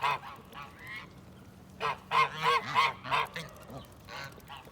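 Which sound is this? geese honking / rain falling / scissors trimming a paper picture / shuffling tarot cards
geese honking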